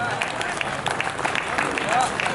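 An audience at a Hindi satirical poetry recital claps in a dense, steady patter of applause throughout, with a voice faintly audible beneath.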